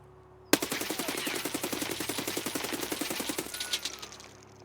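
A long controlled full-auto burst in Escape from Tarkov, about three seconds of rapid evenly spaced shots, loud and close, starting sharply and trailing off into a short echo.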